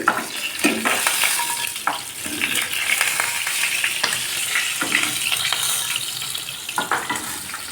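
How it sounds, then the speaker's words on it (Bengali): Fish fry crisp in hot oil in a home kitchen, a loud, dense sizzle with intermittent scraping and stirring clicks as the pieces are turned and lifted out, no talking. "মাছগুলো সুন্দর কড়া ভাজা হয়েছে এখন নামিয়ে নেওয়া হচ্ছে"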